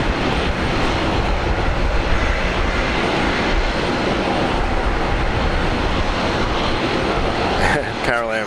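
A Jetstar Airbus A330 roars along runway 19 left at Brisbane Airport, a loud, steady broadband engine rush that holds throughout, with a brief rattling tone near the end.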